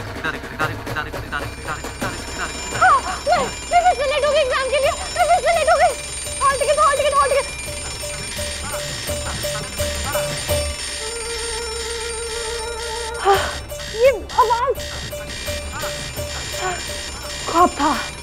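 Several alarm clocks and phone ringtones ring at once in a TV drama scene, overlapping beeps and rings that start and stop, with talking between them.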